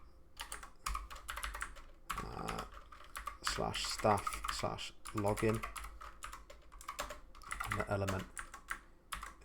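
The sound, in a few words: typing on a computer keyboard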